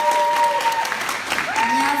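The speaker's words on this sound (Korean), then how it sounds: "여러분 큰 박수로 맞아주십시오." An audience at a children's song festival gives a burst of applause for a young singer. The clapping is steady and moderately loud, with a voice and some tonal sounds running over it.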